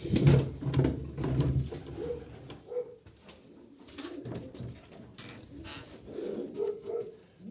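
Pigeons coo and shuffle in a loft while feeding, with soft repeated cooing calls near and far, louder bursts at the start and again toward the end.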